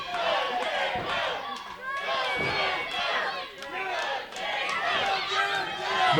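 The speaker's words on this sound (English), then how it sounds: "Crowd getting behind Jarron Fulton." A video game wrestling arena crowd roars and chants in continuous swelling waves, loud and dense, with brief dips between surges.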